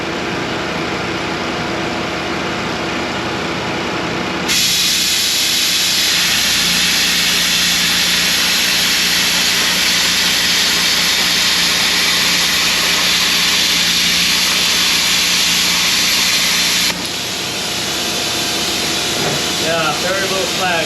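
Plasma cutter slicing through quarter-inch steel plate, a loud sustained roaring hiss that starts abruptly, holds steady for about twelve seconds and cuts off, with quieter background noise before and after.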